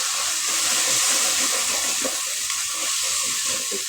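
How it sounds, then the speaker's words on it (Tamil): A paste of ground pepper, cumin, fennel, tomato and onion sautéing in a pan, giving a steady close sizzle with soft stirring scrapes throughout. "கொஞ்சம் வதங்கி வரட்டும்"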